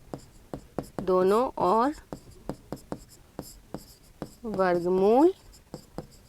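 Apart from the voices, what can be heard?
writing on a board during a maths lesson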